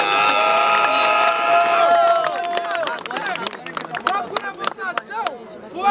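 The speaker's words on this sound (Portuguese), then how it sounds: "uma salva de palmas pra esse round" Crowd at a student rap battle cheers and claps loudly, starting with sustained shouting that breaks into scattered whoops, whistles and sharp claps, with voices calling over the noise.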